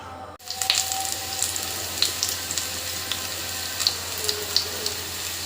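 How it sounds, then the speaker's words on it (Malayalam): Mustard seeds, dried chili, chopped shallots and curry leaves fry in a generous amount of oil, giving a continuous close sizzle dotted with small sharp pops and crackles, with no speech. "എണ്ണ കുറച്ച് കൂടുതലായി എടുക്കണം ശേഷം കടുക് വെറ്റൽമുളക് ചെറിയ ഉള്ളി രണ്ട് മൂന്നെണ്ണം ചെറുതായി അരിഞ്ഞത് കറിവേപ്പില എന്നിവ ചേർത്ത് വഴറ്റിയെടുക്കാം"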